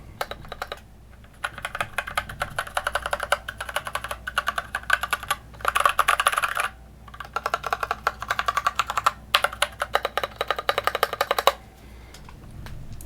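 Steady typing on a Keychron K2 mechanical keyboard with linear switches, smooth non-clicky keystrokes, fast bursts broken by a few short pauses, close and clear.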